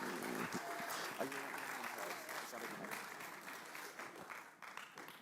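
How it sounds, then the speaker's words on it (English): An audience claps for someone speaker at a talk, steady applause that stays fairly even before thinning slightly at the end, with brief voices underneath. "Let's give her a round of applause."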